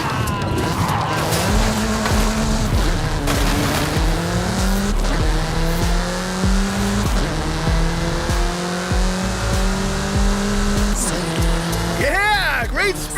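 Car racing hard along roads and into the countryside in Forza Horizon 5: a loud, continuous engine roar climbing and shifting through gears, with tire squeal rising near the end.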